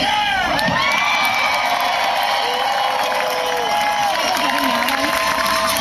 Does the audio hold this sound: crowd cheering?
yes